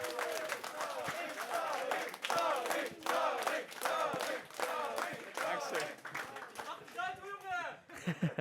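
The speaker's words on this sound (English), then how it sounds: "I want to give a big round of applause again" A crowd claps and cheers at a Super Smash Bros. Ultimate tournament finals, steady dense applause lasting several seconds with shouting voices mixed in before it thins out at the end.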